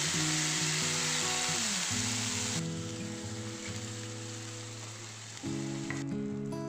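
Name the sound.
ground coconut sizzling in hot coconut oil with mustard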